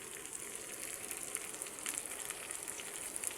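Fresh spinach for palak paneer wilts in a hot pan, giving a steady soft sizzle and hiss with faint crackles throughout, alone and without talk.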